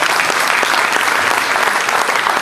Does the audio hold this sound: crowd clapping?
yes